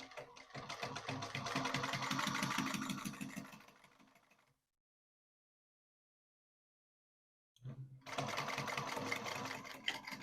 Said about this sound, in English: So I'm going to test the bobbin thread and the setting and see if I'm happy with the stitch length